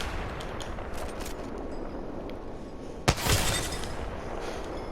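A single loud Kraber sniper rifle shot in the Apex Legends video game, a sharp crack with a short rumbling tail, heard over steady game background noise.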